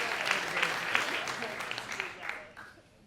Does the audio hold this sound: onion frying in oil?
no